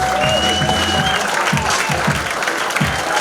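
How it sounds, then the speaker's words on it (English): Audience applause for a comedian at a comedy competition, dense clapping with cheers and whistles, with voices briefly audible over it. "Keep the round of applause going"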